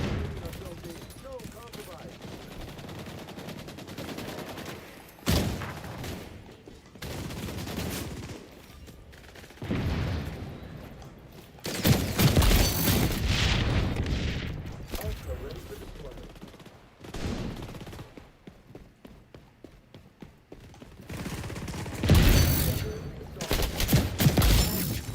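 Marksman rifle fire in the video game XDefiant on the Rockefeller map, with repeated bursts of loud shots and other gunfire in several clustered volleys, and a player talking in between.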